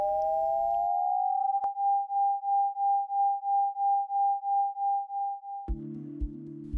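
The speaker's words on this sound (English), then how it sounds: "Here is the sound of a radio-generated beat note." A radio-generated beat note: a pure steady tone that pulses in a regular wah-wah rhythm, about a dozen even swells, bracketed by brief bursts of other sound at start and end.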